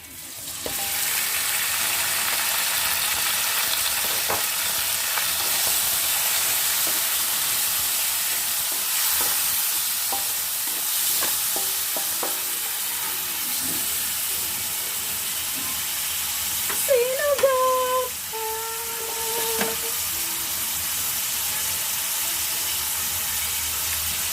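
Pork frying in a pan for adobong langka, a steady bright sizzle throughout with occasional clicks and utensil taps, a brief whistle-like tone partway through, no talking.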